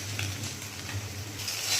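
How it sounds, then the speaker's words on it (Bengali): An egg fries in a pan with Maggi masala sprinkled over it, making a soft, steady sizzle up close with light stirring sounds and no voices. "ডিমটাকে এবার একটু ভালো করে ভাজবো।"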